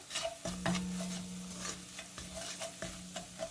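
Curry paste and minced garlic in a hot pan, with a constant soft sizzle broken by repeated spoon scrapes and stirs at a steady pace, close and fairly quiet.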